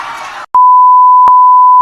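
After a brief burst of noise, a pager emits a loud, clean electronic beep tone that holds steady and unbroken for over a second, alone and close.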